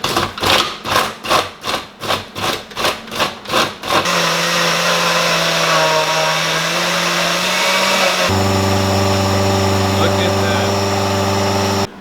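A household blender strains through orange juice and whole fruit, first in rhythmic pulsing bursts, then a loud sustained grinding whir whose motor pitch drops and shifts as it labours, no talking over it.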